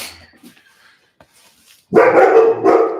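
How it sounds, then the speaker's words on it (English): A dog barks in loud, close bursts inside a home after a quiet start, several sharp barks running together over about a second. "If I get up, she has to bark to notify all the stranger danger."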